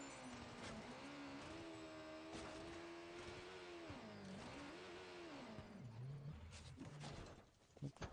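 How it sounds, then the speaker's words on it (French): Motorcycle engine in Watch Dogs 2, revving with a rising and falling mid-pitched drone that runs steadily for about seven seconds, then cuts out, under in-game noise. "C'est de la merde ta caisse, enfin ta moto."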